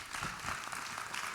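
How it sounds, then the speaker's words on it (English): Steady audience applause for the candidates at a 2024 congressional district candidate forum in Georgia, an even wash of many hands clapping throughout. "Let's give all the candidates a big round of applause."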